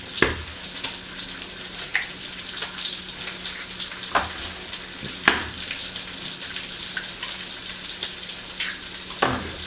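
Bacon fries in a pan with a constant close hiss and sputter, broken by sharp scraping clicks and clatters as it is stirred at irregular intervals.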